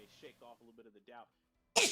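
A sudden loud sneeze bursts out at the end after a stretch of talking between esports casters.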